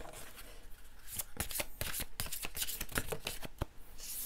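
A deck of oracle cards is shuffled and handled up close, crisp riffling snaps and flicks repeating in quick irregular bursts, fairly quiet, with no talk.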